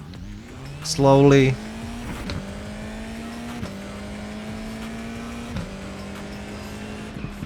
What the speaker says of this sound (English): I will push the clutch pedals, rev the engine, release the one